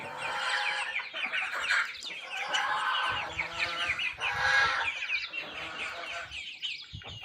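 Several chickens and roosters cluck and squawk continuously nearby on a farm, with overlapping calls rising and falling in bursts.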